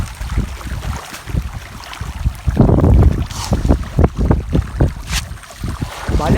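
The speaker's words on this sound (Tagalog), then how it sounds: "mainit mga kabukid pero mahangin pa rin, hindi pa tapos ang habagat." Gusty wind buffets the microphone outdoors at a tilapia pond on a hot monsoon-season day, rising and falling in irregular rough bursts with no voices.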